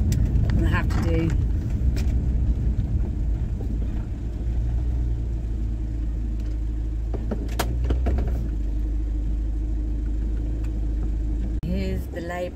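Car engine hum and road rumble from inside a vehicle as it drives and turns around on a North Wales road, a steady low drone with a few clicks and knocks, no talking.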